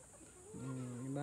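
Backyard chickens on a small home farm in the morning. One hen gives a drawn-out, tonal cluck that sounds close but quiet against faint background noise.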